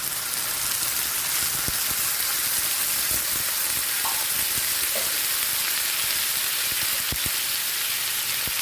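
Canned sardines frying in a pan with onion, garlic and tomato give off a steady, dense sizzle that holds unbroken throughout, with a few faint clicks of stirring.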